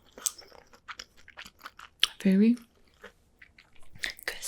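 Someone bites into crunchy Southern-style crispy fried shrimp, with close, moist chewing and crunching between stretches of talk and a short hum partway through.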